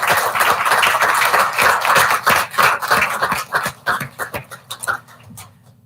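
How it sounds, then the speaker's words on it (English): Board meeting attendees clap for educators, a dense burst of applause that thins into a few scattered, distinct claps before fading out. "let's give our outstanding educators a round of applause"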